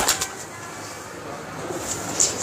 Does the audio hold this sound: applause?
no